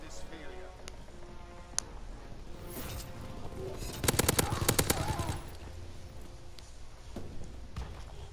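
Gunfire in Call of Duty WWII gameplay, with a rapid burst of automatic shots in the middle over a constant game soundscape of scattered impacts and footsteps.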